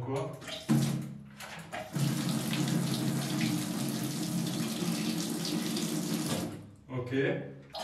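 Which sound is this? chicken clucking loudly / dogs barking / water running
water running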